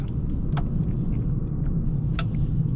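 Mercedes CLA 35 AMG coupe, a 2024 facelift, idling in sport mode with a steady low rumble near the microphone, plus a couple of brief light clicks, with no talk.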